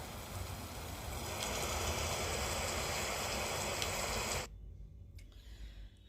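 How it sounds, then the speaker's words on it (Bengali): Steady rain falls outdoors, recorded as it happens. A dense, even hiss fills most of the stretch, then drops abruptly to a much quieter patter near the end. "আর বৃষ্টির সাউন্ডটা অরিজিনালি দিলাম"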